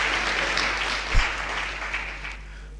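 An audience claps together at a spiritual discourse gathering, a dense, sustained applause that stays fairly even before easing slightly toward the end, with no talking over it.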